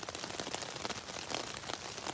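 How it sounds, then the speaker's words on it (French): Steady rain patters densely on a tent overhead, a constant close hiss of drops with no voices. "ce sera l'occasion de tester la tente sous la pluie"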